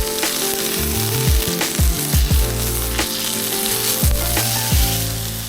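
Rib eye steak topped with beef tallow sizzles loudly on a Blackstone griddle, a steady close frying hiss with several sharp scraping spatula strokes as it is flipped, no talk.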